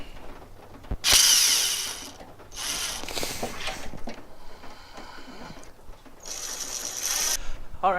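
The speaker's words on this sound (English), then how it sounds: "I'm going to go ahead and hit them with a 1/4-inch drill bit and get them drilled out" A power drill with a 1/4-inch bit bores holes for mounting an AutoSaver 88 budget light bar, coming in close, loud, high-pitched bursts that start and stop over several seconds, mixed with clicking and handling noise.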